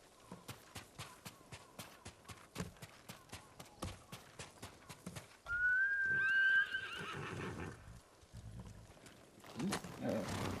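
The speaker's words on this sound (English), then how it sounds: "You're a good horse, Kage." A horse neighs in the samurai video game Ghost of Tsushima, a loud whinny rising midway through after a steady run of hoofbeats, with more galloping and rustle following.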